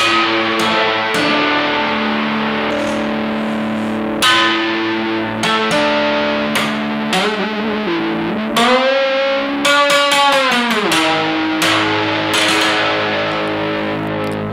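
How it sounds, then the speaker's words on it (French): A sitar played through a distortion effect pedal, a loud, continuous buzzing stream of plucked notes and sliding bends with a gritty electric-guitar-like tone and no voices. "On a également choisi d'utiliser une distorsion avec les instruments."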